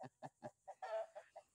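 Hens in a coop cluck in short rhythmic bursts with a longer squawking call in the middle, close and fairly quiet.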